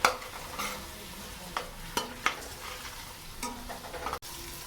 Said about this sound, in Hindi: मटरों को हमने 1 मिनट 2 मिनट तक इसकी भुनाई करनी है मटरों की